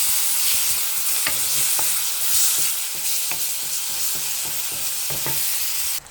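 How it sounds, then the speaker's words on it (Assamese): Tomatoes with salt and turmeric stir-frying in a pan, a steady close sizzle broken by repeated scraping knocks of a spoon stirring through the mixture. "বিলাহী দি এইখিনি অলপ ৰঙচুৱাকৈ ভাজি ল'ম।"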